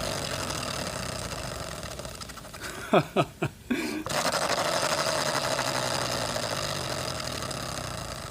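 A Power Stroke electric power washer hums and rattles steadily at close range, like a card flapping in bicycle spokes. Several sharp clicks interrupt it midway before the continuous drone resumes.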